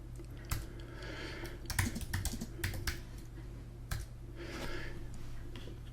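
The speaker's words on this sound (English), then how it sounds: "in order to enable SSH, secure shell, we just simply type in touch SSH" Quick bursts of keystrokes on a computer keyboard as a command is entered while setting up a Raspberry Pi 4, soft and close with uneven pauses, no voices.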